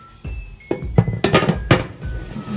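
A plate clinks and clatters against metal as it is slid into an oven, several sharp bright knocks in an uneven sequence, close and fairly loud, with a faint steady tone beneath.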